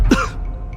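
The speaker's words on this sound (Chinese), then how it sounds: "春日风邪侵扰，您看我都咳嗽了" A single short cough, or throat-clear, from a character in a Chinese-dubbed anime, close and clear, followed by quiet.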